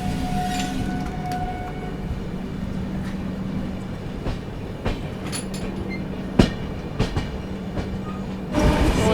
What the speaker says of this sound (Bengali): ট্রেনটা তো যাচ্ছে সিঙ্গেল ট্র্যাক